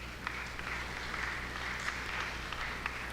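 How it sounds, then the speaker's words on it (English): An audience at an employability summit and career awards event claps for a speaker coming on stage, heard as soft, distant, sustained applause in a large hall. "Please let's put our hands together for him as he comes on."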